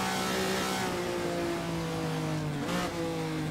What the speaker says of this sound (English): This car sounds great.